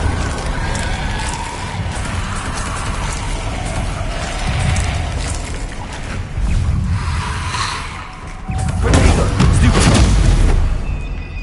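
Fire spells cast in Hogwarts Legacy on PlayStation 5 produce loud, rumbling whooshes and booming bursts of flame, rising in waves over continuous game noise, with a voice speaking between them.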